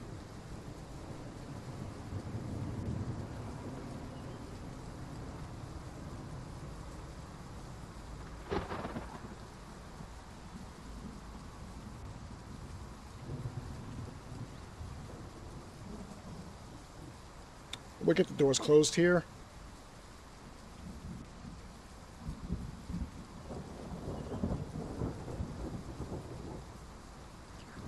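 Rain falls throughout a Train Sim World 6 railway scene with low rumbling thunder, a sharp thunder crack near the middle, and later rolling rumbles; someone talks briefly over the storm.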